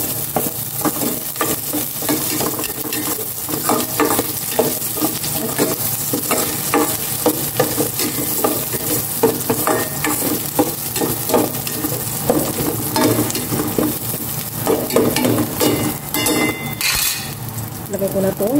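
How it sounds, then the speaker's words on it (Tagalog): Garlic and onion sautéing in a pan, a loud close sizzle with constant stirring scrapes and occasional clinks of utensil on metal, with talk over parts of it. "Gisa ko na itong bawang. Gisa ko na itong sibuyas."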